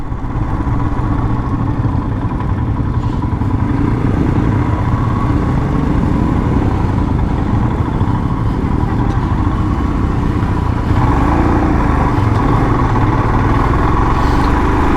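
A Royal Enfield Himalayan motorcycle engine idles steadily at a toll booth, a continuous low mechanical rumble held close and loud throughout with no break.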